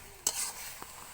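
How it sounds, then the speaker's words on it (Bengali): A spatula stirs cooked pumpkin and Malabar spinach with a little sugar in a pan, giving a brief scrape and soft sizzle followed by a fainter second scrape, close by. "চিনি দিয়ে কিছুক্ষণ নাড়াচাড়া করে নামিয়ে নেব।"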